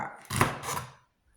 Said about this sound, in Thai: พริกเนี่ยก็สิหั่นก่อนพี่น้อง หั่นก่อนนะคะ